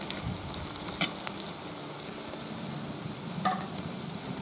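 Onions fry and sizzle in a pan as smoked paprika is stirred in for a bograch goulash. A steady soft crackle runs throughout, with a few clinks of a spoon against the pan.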